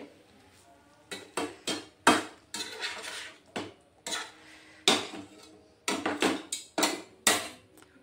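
A cooked snack spooned from a pan onto a plate: a run of close, crisp scrapes and clinks of a spoon against metal and crockery, irregular bursts with short pauses between.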